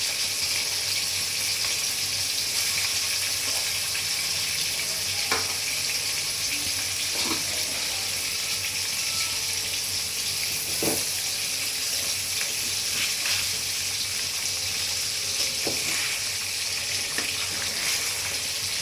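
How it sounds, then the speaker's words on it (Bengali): Five pieces of bhetki fish frying in hot oil in a pan, a steady hiss and sizzle with faint scattered pops and clinks, with no voices. "তেল বেশ গরম হলে প্রথমেই 5টি পিস তেলের মধ্যে দিয়ে দিলাম।"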